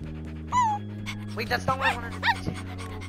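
Wolf dog in the Minecraft: Story Mode video game panting and whimpering in short bursts over a steady game music drone, with a voice speaking briefly.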